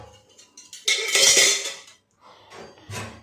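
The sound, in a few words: picking up plates and pots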